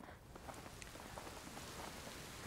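Steady rain pours down in the video game A Plague Tale: Innocence, a dense, even hiss of drops hitting surfaces close by, continuous and without talk.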